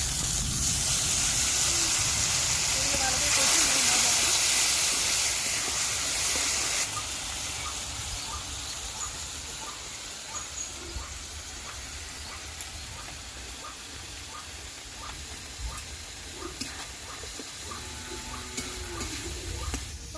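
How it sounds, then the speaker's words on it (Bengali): Water poured into fried spice paste hisses loudly at first, then settles into a quieter sizzle with small bubbling pops as it starts to boil. "মশলাটা কষানো হয়ে গিয়েছে জল দিয়ে দিলাম ওটা ফুটতে শুরু করেছে"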